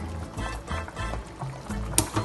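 Cashews are poured into water in a pressure cooker, producing a short run of close, uneven splashes and clattering plops lasting a couple of seconds.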